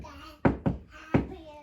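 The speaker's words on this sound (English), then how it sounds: "The three little fish had just finished lunch when they heard the big bad shark knocking at their door." Three firm knocks on a door, two close together then a third after a short pause, sounding near and hollow against a quiet background.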